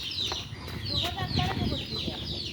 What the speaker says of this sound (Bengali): এ মুরগি কামড় দিবে